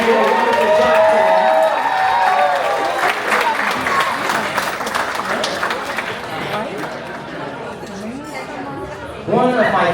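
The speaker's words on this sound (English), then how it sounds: "If you feel a huge round of applause for someone that did a wonderful job today." Wedding guests at a reception applaud loudly and steadily, with chatter and a few cheers mixed in, fading slightly before a fresh burst near the end.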